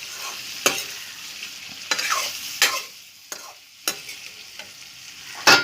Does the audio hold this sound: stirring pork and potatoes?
yes